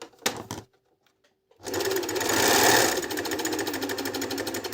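A few sharp clicks, a silent pause, then a dry, unlubricated SilverCrest 90A1 overlock sewing machine starts up and rattles loudly in a fast, continuous clatter close by.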